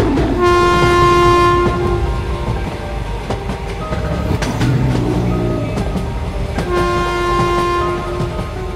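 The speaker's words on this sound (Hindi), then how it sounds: "तभी ट्रेन शुरू हो जाती है।" An animated cartoon train pulls away from a railway station: long, loud sustained horn blasts sound over a steady rolling rumble and clatter of wagons, with a second horn blast near the end.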